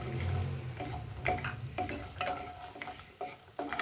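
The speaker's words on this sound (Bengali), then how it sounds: "তেল গরম হয়ে গেছে, আগে বড়িটা ভেজে তুলে রেখে দিব।" Bori lentil dumplings fry in hot mustard oil in a pan, giving a steady low sizzle overlaid with frequent spatula scrapes and light metallic clinks, close up and with no voices.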